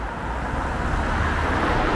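Steady traffic on the main road crossing Minchinhampton Common in the Cotswolds, a continuous broadband roadway rumble from passing cars, fairly loud and close with no clear breaks.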